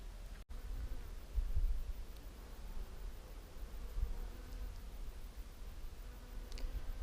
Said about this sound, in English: The whole place is alive with bees, honeybees, also bumblebees and flies and various other things like hoverflies.